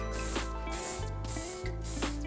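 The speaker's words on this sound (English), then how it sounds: "And then the piece de resistance will be shine spray." Shine spray is misted onto hair in four short, close hissing bursts, evenly spaced across about two seconds.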